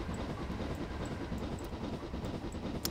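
A train rumbles past on the rails in Train Simulator 2017, a steady dense roar with faint clicking and a brief hiss of air near the end, heard close and without any talk.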